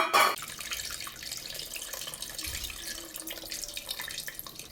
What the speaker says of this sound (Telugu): ముక్క మునిగే వరకు నీళ్ళు వేసుకుంటున్నాను